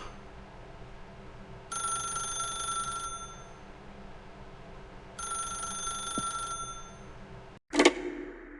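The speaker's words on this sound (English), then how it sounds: "If you can truly place your faith in another, then pick up the phone." A telephone rings in The Stanley Parable video game: two steady, bright electronic ring bursts, each about a second and a half long and separated by a gap, followed by a sharp click as the receiver is picked up.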